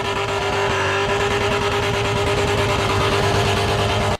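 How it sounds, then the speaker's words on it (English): A tuned car engine revs hard and holds a loud, raspy, sustained drone close by for several seconds before cutting off abruptly, with no talking. "he has probably one of the most mint sounding cars"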